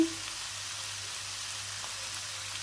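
Sotanghon guisado glass noodles frying in a pan, a soft steady sizzle that continues throughout while the noodles are stirred, with a brief clink at the start.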